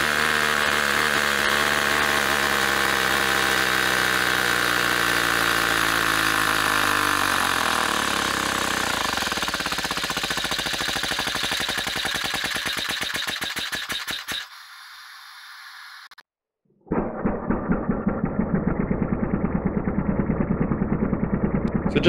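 A 3D-printed pneumatic air engine fed through pneumatic fittings runs loud and fast, its rapid chuffing pulses slowing over several seconds, then cutting out before a burst of air resumes.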